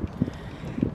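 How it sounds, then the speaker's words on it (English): Strong wind on a sunny day outdoors buffets the microphone in low, gusty rumbles that swell and fade over a second, loud and close. "It's very windy, I know."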